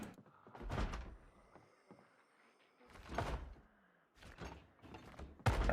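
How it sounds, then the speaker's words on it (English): A zombie pounds on a door in Project Zomboid: several heavy, uneven thuds and bangs against the door, spaced by short quiet gaps, fairly close and moderately loud. "I hear you pounding in there."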